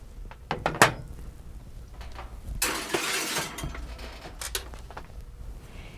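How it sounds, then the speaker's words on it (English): A covered casserole dish of beef and rice goes into the oven: sharp clinks of lid on dish, then a longer scraping, sliding rumble and a few knocks and clatters, close, with no talk. "I'll cover this and into the oven it goes."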